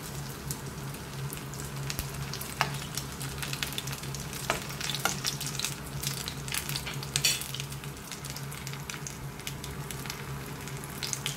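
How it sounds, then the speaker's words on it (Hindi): Chicken and vegetable spring rolls deep fry in hot oil, a close, steady sizzle with crackling pops running without a break and no talking. "आपने जितना क्रिस्पी रखना है उतना कर लो फ्राई इनको।"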